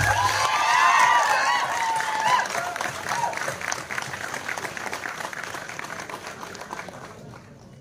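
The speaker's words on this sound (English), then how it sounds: "A big round of applause." University gathering crowd applauding an announcement, vigorous clapping mixed with cheers and a few shouts at first, then settling into steady, slightly softer applause that fades near the end.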